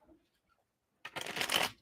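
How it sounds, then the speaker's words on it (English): A deck of tarot cards being shuffled during a live reading, a dense riffling burst that starts abruptly after a quiet moment and carries on steadily, close and fairly loud, with no talk over it. "shuffling the cards for Aquarius"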